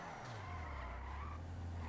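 A car in the video game GTA 5 skids sideways with a continuous tire screech over a low engine drone. The sound is fairly faint and lasts throughout.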